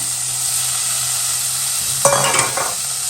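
Minced mutton with a few pieces of fat sautés with onions in a pan, a continuous sizzle broken near the end by a short burst of spatula scraping and stirring.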